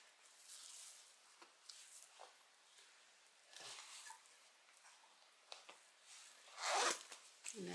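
A zipper pull slid aside on a fabric beverage bag during sewing, heard as faint scattered rustles and handling with one brief louder zipping rasp near the end, close and quiet.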